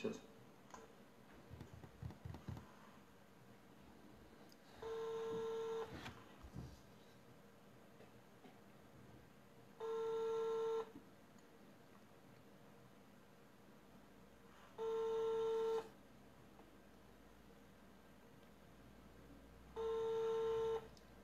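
Ringback tone from a mobile phone calling another phone, four long steady tone bursts spaced about five seconds apart, loud and clear over a quiet background, with brief speech early on.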